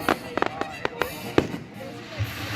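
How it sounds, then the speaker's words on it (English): Fireworks at an Independence Day show in Morningside Park, several sharp booms and crackling pops bursting at irregular intervals from a distance, with a spectator's voice heard among them. "Here I am at Morningside Park watching the fireworks."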